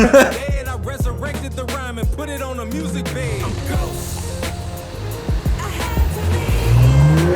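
A car speeds past at a car-wrap shop, engine loud and close with a rising, revving pitch, mixed with tire noise and a busy background of voices and clatter.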